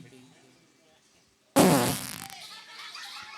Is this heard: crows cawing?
no